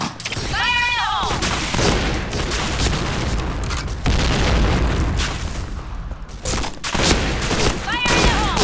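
Grenade blasts and heavy gunfire in a first-person shooter game with an M1887 shotgun keep up a dense, loud, continuous roar of booms and bursts, with brief rising electronic tones near the start and end.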